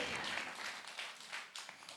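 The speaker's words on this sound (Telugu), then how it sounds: "నమ్మిన వారు ఒకసారి గట్టి చప్పట్లు కొట్టండి" A church congregation claps loudly in praise during a sermon, the sound a soft but continuous wash of many hands with a few distinct bursts, heard from some distance.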